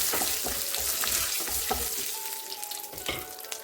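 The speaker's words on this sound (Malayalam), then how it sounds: "കുറച്ച് അണ്ടിപ്പരിപ്പും കൂടെ അതിലേക്ക് നമുക്ക് വറുത്തെടുക്കണം." Cashew nuts fry in hot oil with dried red chillies and curry leaves for a Kerala sadhya pineapple pachadi, giving a steady close sizzle with stirring scrapes throughout, no talk.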